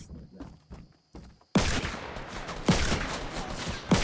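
Gunfire in Fortnite Battle Royale breaks out as sharp, loud shots in a dense burst, following a few quieter footstep-like knocks, with repeated impacts continuing through the noisy stretch.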